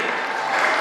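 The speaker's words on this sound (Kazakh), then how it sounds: "бір қол шапалақты ұрын" Guests at a 70th birthday celebration in a restaurant in Uzbekistan clap together in a brief, dense round of applause, steady and fairly loud throughout.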